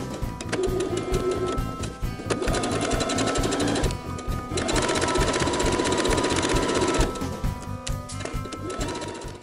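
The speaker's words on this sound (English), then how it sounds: "we're going to sew in 1/4-inch seam allowance, and we want to make sure to back tack at the beginning and the end" A sewing machine stitches a tote bag lining seam at a quarter-inch allowance with back tacks, running in four rapid, steady bursts separated by short pauses, loud and close.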